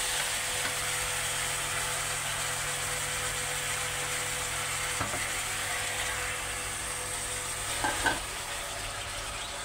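Vegetables sizzle steadily in a pan with panch phoron for a sweet pumpkin dish, a constant frying hiss broken by a few soft stirring scrapes.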